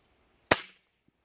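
A single unsuppressed shot from an HW100T air rifle, a sharp, loud crack that decays quickly into silence, with a faint click just after.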